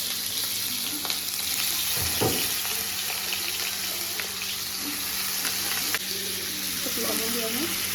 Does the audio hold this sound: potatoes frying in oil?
yes